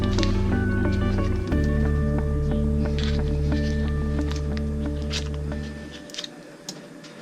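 Butter melting in a hot pan with olive oil gives scattered sharp crackles and pops over a steady low hum. The hum cuts off near the end, leaving a few isolated pops.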